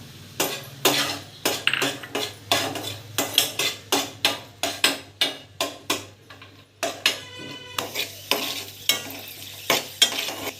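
Cashews and raisins frying in ghee in a pan, heard as a steady run of sharp metallic scrapes and clinks from a spoon stirring against the pan, repeated quickly over a low sizzle.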